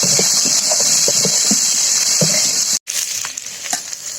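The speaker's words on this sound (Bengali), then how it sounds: "বেজে রাখা উস্তেগুলো দিয়ে দিই আর একটু নেড়ে নিই" A pan of vegetables with fried bitter gourd strips sizzles steadily while a spatula stirs and scrapes in irregular taps, broken by a brief silent gap before the frying and stirring resume.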